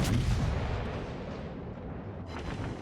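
Naval gun broadside firing in the World of Warships game, a heavy booming blast at the start that rolls off into a long rumbling decay, with a fainter secondary crack near the end.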